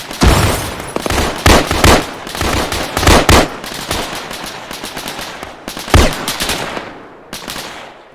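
Bursts of automatic gunfire in the military shooter game Arma 3, with rapid rattling volleys and single sharp shots stacking up close and loud, pausing briefly before more fire near the end.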